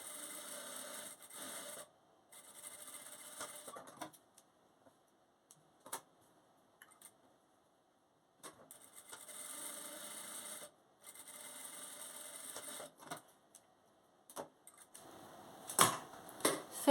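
A sewing machine stitches the side seams of a fabric wallet lining in several runs of fast, even mechanical chatter, separated by quiet pauses and soft handling clicks.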